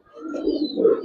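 Pure-bred Giribaz coloring pigeons at a pigeon farm give a close, low, rolling coo that swells steadily and peaks near the end of a brief phrase, with no talk over it.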